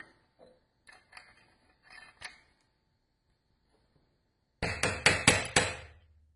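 Bullet pulled from a 300 Blackout cartridge, Barnes Range AR ammo with a jacketed zinc core: a few faint scrapes and taps, then a cluster of five sharp, loud metallic hammer-like knocks in quick succession.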